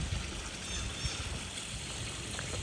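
A waterfall feature on a residential swimming pool runs steadily, a constant broadband splashing rush of falling water heard close and unbroken throughout.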